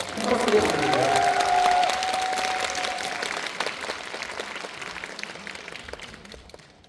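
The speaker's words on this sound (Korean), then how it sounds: "한 박수로 부탁드립니다" A cinema audience at a special guest screening applauds as two Korean film directors are welcomed, steady crowd clapping that is loudest at first and gradually thins and fades, with a voice briefly heard.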